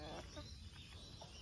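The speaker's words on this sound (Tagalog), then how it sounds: "Daming manok oh." Chickens in a rural yard in Masbate clucking faintly in a brief burst of scattered calls against background noise.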